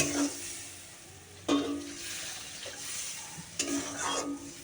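Water goes into a wok of mustard paste and is stirred, bringing bursts of sizzle and bubbling with a few sharp scrapes of the spatula against the pan, close and moderately loud, without talking.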